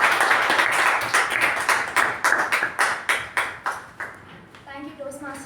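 Audience applause welcomes the table topics master at a Toastmasters meeting, a burst of rapid hand claps from a small group in a room that thins into separate claps and fades out.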